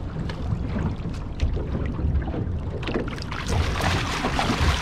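Outboard motor of a small fishing lancha off Mazatlán, Sinaloa, running steadily with water rushing and wind buffeting close to the microphone throughout.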